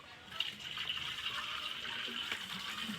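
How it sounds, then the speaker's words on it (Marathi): Water is drawn from a well in rural Konkan and poured into a container, a steady splashing, gushing fill heard up close and moderately loud throughout, with no talking. "पप्पा इथे बावडीतून पाणी भरतायत"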